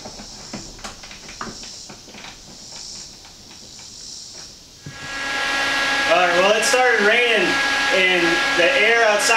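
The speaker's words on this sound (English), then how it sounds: "so I turned on this fan, and it's making a huge difference" A homemade whole-house fan built from a car radiator fan starts up and settles into a loud, steady airy whir, with someone talking over it.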